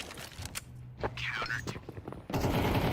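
Counter-Strike professional match gunfire, several short sharp shots and bursts scattered across the moment, with faint mechanical noise between them and a dense burst of firing near the end.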